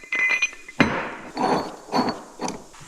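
Metal pipe being bolted onto a 40-ton skid steer log splitter, heard as a few sharp metallic clinks and knocks spaced irregularly, close and fairly loud.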